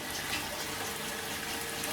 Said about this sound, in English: So when I want water, push the pump